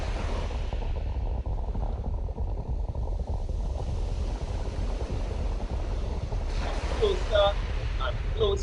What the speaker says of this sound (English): that's the tsunami headed